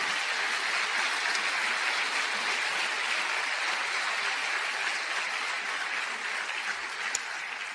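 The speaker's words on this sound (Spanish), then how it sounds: "¿Cuántos le dan un aplauso a él?" Sustained applause from a large crowd at a church sermon, dense and steady throughout, with a few louder claps standing out near the end.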